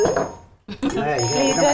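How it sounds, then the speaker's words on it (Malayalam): A telephone ringtone chimes with steady tones during a Malayalam comedy serial scene, a brief gap midway, while people talk over it. "നടക്കാൻ പോണ കാര്യത്തെ കുറിച്ചാണ് ഫോൺ അടിക്കുന്നത്"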